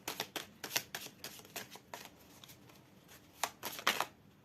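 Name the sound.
shuffling tarot cards to draw a card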